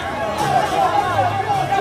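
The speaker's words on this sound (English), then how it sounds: "Hey, see the crowd." A crowd of people gathered outside in Nigeria makes a loud, steady murmur of overlapping voices, with one voice rising and falling close by above the general babble.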